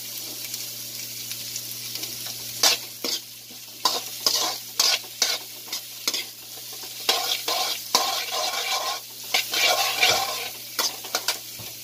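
Carrots sautéed crisp-tender in a pan for sweet and sour tilapia: steady frying sizzle with repeated scraping stirs of a utensil against the pan, close and fairly loud, no talk.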